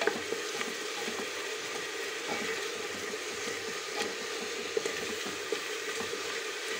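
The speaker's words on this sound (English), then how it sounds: "So the onion is cooking well. I will let this cook for about a minute or two more" Onion and ginger garlic paste frying in a pan for a curd chicken curry, a steady, soft sizzle running throughout with faint stirring clicks.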